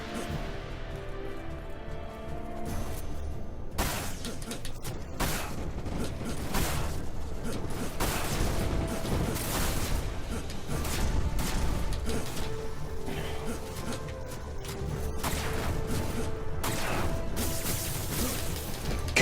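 Rocket blasts and explosions in the Final Fantasy VII game on PS2, dense and continuous, with repeated bursts and clattering impacts over a steady background score.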